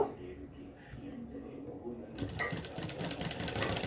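A sewing machine stitches a sleeve onto a ready-made umbrella dress, its rapid, even whirring starting about halfway through and running on, while someone talks over the machine.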